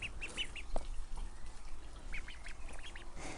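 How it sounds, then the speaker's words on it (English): Ducklings in a garden give several short, high quacking peeps in small clusters, moderately close, over a quiet outdoor background with no talking. "I've got some ducklings, if you can see them."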